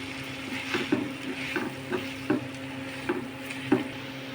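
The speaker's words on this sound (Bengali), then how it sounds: "মশলার সাথে আলুটা ভেজে নিয়েছি" Potatoes frying with spice masala in a pan while being stirred, giving a steady close sizzle with regular scraping strokes of a spoon about every half second.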